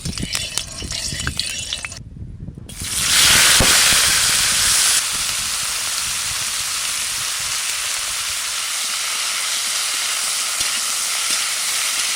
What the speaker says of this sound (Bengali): প্রথমে ফুলকপিটাকে একটু ভেজে নেব